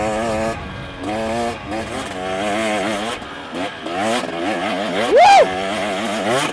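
A KTM 300XC TBI two-stroke dirt bike engine buzzes loud and close while riding, its pitch rising and falling through repeated revs, with a sharp high rev spike near the end and a voice briefly heard.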